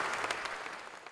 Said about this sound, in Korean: 객석의 환호와 박수를 한몸에